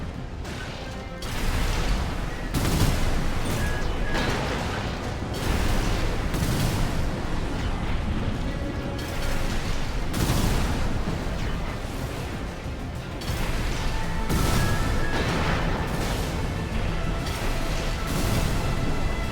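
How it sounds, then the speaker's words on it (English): Homing missiles launch and detonate in Armored Core 6 amid mech combat, repeated thumping blasts and mechanical clatter in irregular bursts across a steady, loud roar of battle. "These homing missiles kind of suck, frankly."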